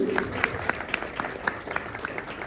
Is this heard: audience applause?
yes